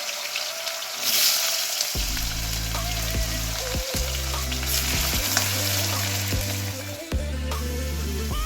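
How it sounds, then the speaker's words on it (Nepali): Finely chopped potatoes frying in a pan, a loud continuous sizzle and crackle throughout, with a steady low hum running beneath for most of the time. "अब अघि मसिनो बनाएर काटेको आलु चाहिँ एकछिनसम्म फ्राई गरौँ"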